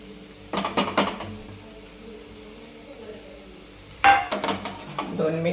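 A metal spoon stirs and scrapes egg masala in a pan as it sautés, with two bursts of clanking near the start and a sharper clang later over a soft steady sizzle.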